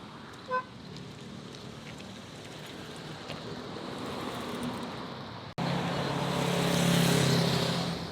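Roadside traffic in Jakarta, Indonesia, a continuous wash of passing vehicles with a brief horn toot early on, swelling louder and closer in the second half, with no talking.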